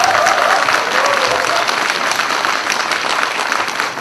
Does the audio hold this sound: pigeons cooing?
no